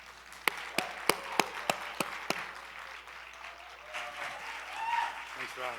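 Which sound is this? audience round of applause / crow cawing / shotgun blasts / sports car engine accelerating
audience round of applause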